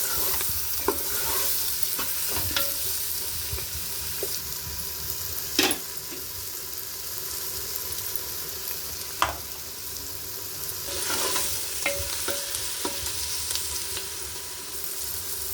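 Mutton trotter curry with coriander being stirred in a pan, heard as a steady frying sizzle with occasional sharp scraping knocks of the spoon, close and continuous, with no voices.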